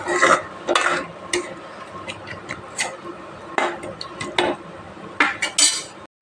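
A utensil scrapes and clinks against a pot of boiling curry in scattered strokes, with soft bubbling and sizzling underneath, close up.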